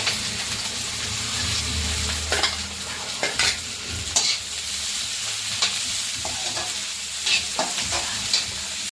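Cabbage being stir-fried with ginger, garlic and green chillies in a hot pan, a steady loud sizzle with repeated scraping and clanking spatula strokes, close and continuous, no voices.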